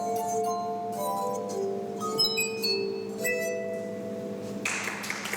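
A glass harp made of water-filled glasses of varied size and shape is played, giving sustained, ringing sung tones that overlap and glide between notes, clear and close with no talking, ending in a brief noisy burst.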